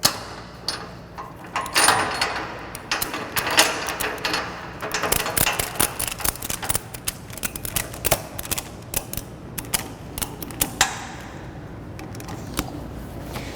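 A ratchet strap cinches down over a UTV tire on a trailer, with rapid clicking ratchet strokes and webbing rasps coming in uneven bursts, close up, with no talking.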